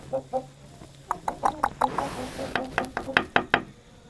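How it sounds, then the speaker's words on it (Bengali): Big roosters and ducks in the grounds of a hillside resort, with a rapid run of close, loud clucks and squawks in uneven bursts and some faint knocking beneath them. "আর এখানে সব এইগুলো রয়েছে, অনেক বড় বড় মোরগ"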